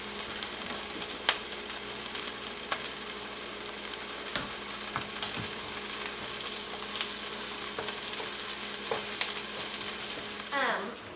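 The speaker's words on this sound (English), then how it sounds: "The onions are looking good, so I'm going to add in the zucchini." Sliced zucchini added to onions already frying in a pan, giving a steady close sizzle with scattered crackles and pops and a few stirring clicks throughout, with no talking.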